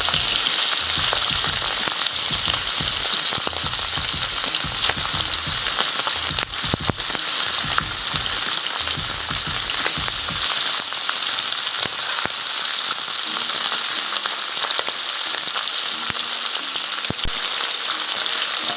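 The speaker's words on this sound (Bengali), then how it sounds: "তেলটা গরম হয়ে গেছে, এখন আমি একে একে মাছ ছাড়িয়ে দেবো।" Hilsa fish pieces fry in hot oil for a mustard hilsa dish, giving a loud continuous sizzle and crackle with a few brief stirring clatters near the start, and no voices.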